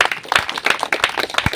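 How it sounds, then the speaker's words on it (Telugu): A church congregation claps during a Telugu sermon, a brief burst of many hands applauding at once, fairly close and lively, lasting just over a second. "చప్పట్లు కొడతారు ఒకసారి"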